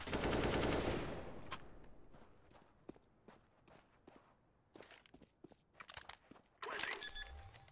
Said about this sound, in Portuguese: Estou a levar tiros do longo, pá.